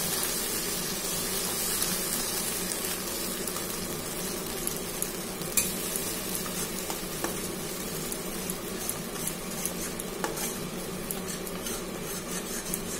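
Tangra fish mango mustard curry with a little water being stirred in a pan, giving a steady low simmering sizzle with soft scraping of a spoon against the pot throughout, no voices.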